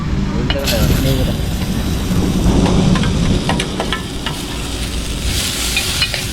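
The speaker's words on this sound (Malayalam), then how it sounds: "ഉള്ളിയും തക്കാളി ഇട്ടിട്ട് നന്നായിട്ട് വഴക്കിയെടുക്കണം" Onions and tomatoes sautéing and being stirred in a pan on an outdoor roadside stop, a steady sizzle with scraping under strong wind noise and a brief voice.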